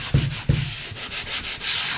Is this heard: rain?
no